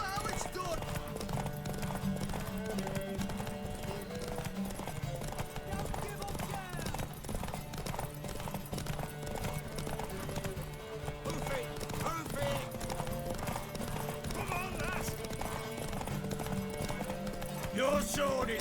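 Hooves of a horse galloping in The Witcher 3 video game, a steady rapid clip-clop running throughout beneath a continuous music score and voices.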